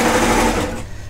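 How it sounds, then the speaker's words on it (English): A serger runs in a fast, steady whir as it stitches the raw edges of fabric for a summer basics garment, loud and close, then stops abruptly near the end. "I'm just going to get a couple of stitches on and then stretch it to suit"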